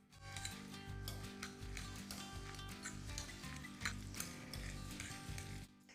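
An egg being mixed into ricotta in a bowl, with continuous rhythmic scraping and clicking strokes of a utensil, close and fairly soft, no talking.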